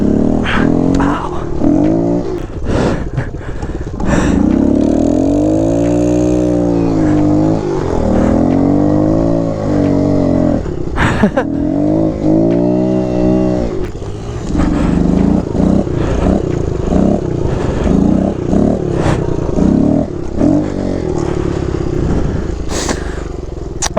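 Kawasaki KLX pit bikes, a 2023 KLX 140 RL and an old 2003 model, idling and revving outdoors, engine pitch rising and falling in repeated throttle blips, loud and near.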